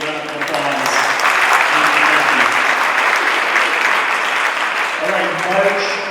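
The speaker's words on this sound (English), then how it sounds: "let's give them another big round of applause" Sustained round of applause from a business luncheon audience honoring a Rotary group, many hands clapping loudly and steadily, with a voice starting to speak as it tapers near the end.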